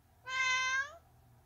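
A single clear cat meow, drawn out for about half a second with a rising then falling pitch, heard close and alone over a faint low background hum.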